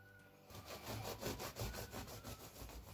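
A knife saws through a cooled, oil-brushed cornbread loaf in quick, steady back-and-forth strokes, a close, rasping scrape that runs continuously after a brief quiet start.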